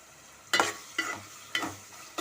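Potato and brinjal curry with tomatoes cooking in a pan, stirred in four distinct scraping strokes at a steady pace over a soft background sizzle.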